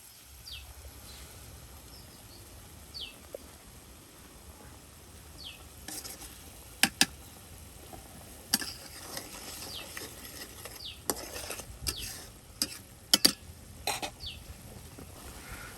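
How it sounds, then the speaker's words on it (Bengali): Spices stirred and fried in a pot over a clay stove outdoors, a faint low sizzle with soft scraping stirs and a few sharper clinks and knocks scattered through. "এই যে মশলা কষিয়ে নেওয়া হচ্ছে"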